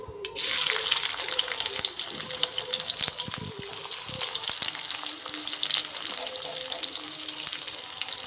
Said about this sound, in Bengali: আর এখন কড়াইতে দিয়ে দিয়েছি তেল। তেলটা গরম হয়ে গেছে, এবার দিয়ে দেব পেঁয়াজ কুচি।